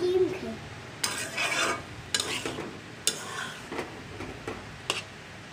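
Rohu fish roe bhaji being stir-fried in a pan: a soft continuous sizzle with repeated sharp scraping and clinking strokes of a spatula against the pan at roughly one-second intervals, close by and without talk.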